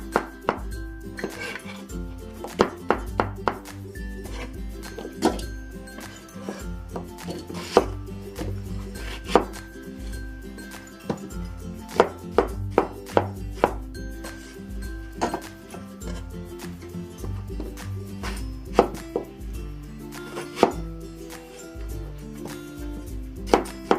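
Winter melon chopped into half-inch rectangular chunks on a cutting board, with a long run of sharp, irregular knife thuds and the occasional clatter of kitchenware, no voices.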